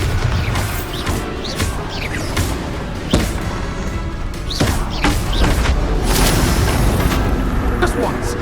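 Bombarda blasting spells in the Hogwarts Legacy video game: several sharp crashing explosions strike at uneven intervals over a busy, noisy combat backdrop, loud and close.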